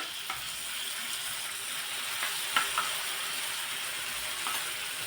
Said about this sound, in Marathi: आणि मिरची मिक्स करून घ्यायची आहे